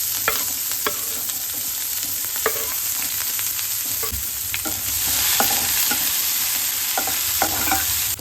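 Onion, chilli, mustard seeds and curry leaves sizzle steadily in a pan of hot oil for a palak dish, with a spoon scraping and stirring at irregular intervals throughout.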